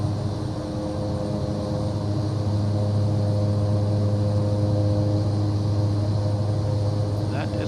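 A Cessna 408 cargo aircraft's engines drone steadily in Microsoft Flight Simulator 2024, a constant loud hum with a low tonal core, running alone throughout.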